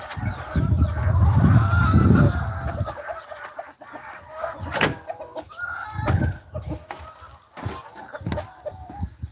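Chickens, roosters and other farm fowl in a coop on a farm in Aklan cluck and squawk loudly up close, with a dense burst of calls followed by scattered honks and clucks.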